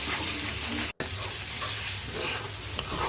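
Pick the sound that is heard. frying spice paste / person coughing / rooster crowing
frying spice paste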